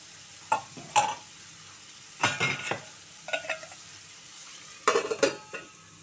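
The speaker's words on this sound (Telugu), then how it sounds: "ఇప్పుడు మనం క్యాప్సికమ్ వేసుకుందామండి. కొంచెం ఉడికించుకుందాం." Capsicum stirred in a pan while cooking for pasta, several separate bursts of scraping and clinking against the pan over a low sizzle, close and alone without talk.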